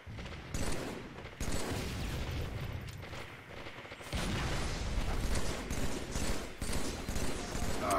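Rapid bursts of gunfire in a Halo 3 multiplayer match, loud and close, repeating across the clip amid other game effects.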